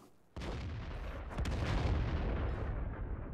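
A single artillery shot fired at a tank in the World of Tanks video game: a sudden heavy boom followed by a sustained rumbling roar that stays loud and fills the clip, with no talking.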